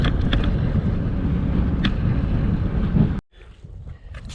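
Strong, steady wind roars into the microphone as a cyclist bikepacks between Owen Sound and Collingwood in Ontario, then cuts out abruptly near the end, leaving quieter gusts and rustling.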